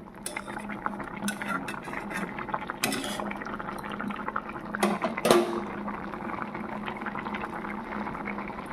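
A pot of boiled fish curry with chopped coriander being stirred, with a spoon clinking and scraping against the pot over faint bubbling liquid, giving soft irregular knocks and wet movement at close range.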